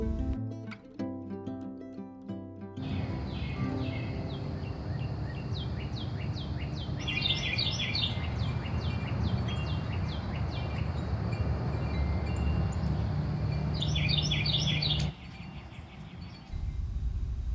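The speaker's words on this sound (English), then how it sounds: "now I have beautiful birds visiting my teacup bird feeder daily" Wild birds at an outdoor teacup bird feeder chirp in repeated quick trills over a steady hiss of background noise, fairly close and continuing for most of the stretch.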